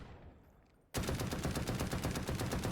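The Ash-12 rifle in the Delta Force: Hawk Ops video game fires 12.7x55mm CQB rounds in a sudden loud, dense burst of rapid gunfire that keeps going after a quiet start, with no talking.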